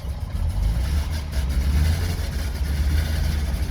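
A DKW two-stroke car engine idles at about 1,000 RPM, a steady low rumble that stays constant and close throughout.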